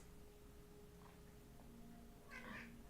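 Two cats give a few faint, brief meows indoors, the clearest one near the end, over a low background hum.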